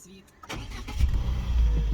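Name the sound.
Peugeot 207+ petrol car engine running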